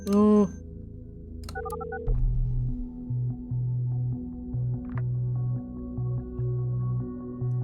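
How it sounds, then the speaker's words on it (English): An incoming phone call rings in the video game Orwell, heard as electronic tones followed by a repeating pattern of low buzzing ring pulses in an irregular rhythm against a quiet hum. "There's a phone call."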